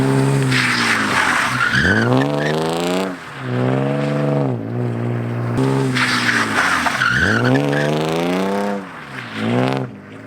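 A BMW E36 fitted with budget angle mods drifts on a street, its rear tires squealing loudly in two long wailing screeches. The tone sweeps up and down over the engine's drone, close by and with no talk.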